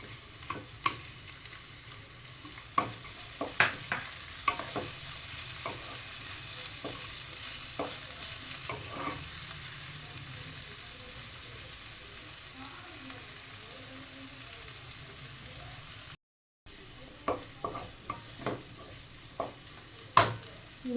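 Green beans stir-fried in a pan for Bengali-style fried rice, a steady low sizzle with repeated scraping stir strokes, close and fairly quiet, with a brief gap near the end.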